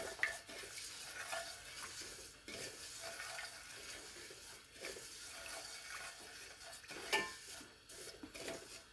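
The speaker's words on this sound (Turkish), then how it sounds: "Şehriyelerimizi kavuruyoruz." Vermicelli toasting in a pot for Turkish rice pilaf, stirred with a spoon that scrapes and clinks against the metal, over a low, steady sizzle that stays moderate and close.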